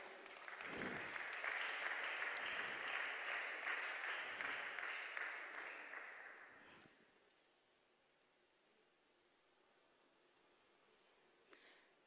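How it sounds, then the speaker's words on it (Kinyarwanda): Applause rises at a church wedding to welcome the couple forward, a dense steady clapping from a crowd that holds for several seconds, then fades out into quiet room tone. "tubakomera amashyi baza hano"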